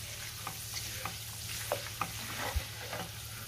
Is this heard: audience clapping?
no